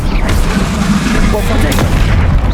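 Confringo spell blasts in Hogwarts Legacy erupt as loud, booming explosions close by, repeated in quick succession amid combat noise, with a voice speaking over them.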